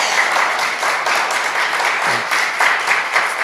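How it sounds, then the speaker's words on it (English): A room full of listeners applauds after a business talk on criminal justice reform, the clapping sustained and fairly loud with a faint low murmur briefly surfacing partway through. "No, Joe, don't interrupt the applause."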